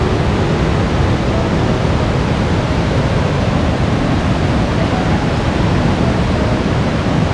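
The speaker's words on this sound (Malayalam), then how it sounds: "നേരത്തെ കണ്ട ആ വെള്ളച്ചാട്ടത്തിൻ്റെ ഉറവിടമാണ് ഇവിടെ." Water rushes at the source of Vazhachal waterfall in Kerala, a dense unbroken roar filling the whole clip, loud and near with no voices.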